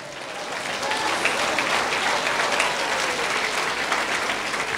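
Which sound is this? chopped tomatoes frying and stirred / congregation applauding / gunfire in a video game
congregation applauding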